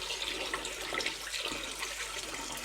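Rice is rinsed under running water to wash out the starch, giving a steady hissing splash of tap water close by, with no talk over it.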